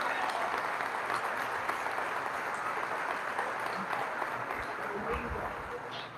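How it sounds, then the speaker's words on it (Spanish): A church congregation claps together in a dense, sustained round of applause that fills the room, steady and loud throughout with no letup. "Tribútele un fuerte aplauso al Señor"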